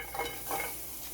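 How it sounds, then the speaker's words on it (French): Vegetables, sliced peppers and onion sizzling softly in a hot pan without oil, a faint continuous frying hiss with light stirring scrapes and utensil clinks close by. "je mets les légumes, les poivrons, puis l'oignon."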